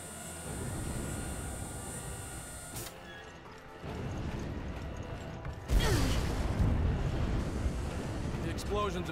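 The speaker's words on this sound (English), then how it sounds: "The explosions have started." Explosions in the Resident Evil Revelations video game aboard a ship, heard as a rumbling mechanical roar that drops out briefly, then returns with a loud burst of deep booming noise that stays strong to the end.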